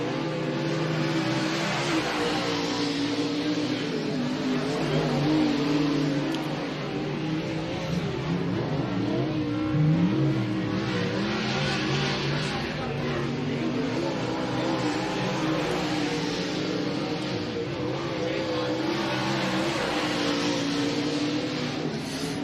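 Dirt late model race cars run qualifying laps at Muskingum County Speedway, engines roaring and swelling as they pass at a distance over a continuous crowd-and-track din, faint talk mixed in underneath.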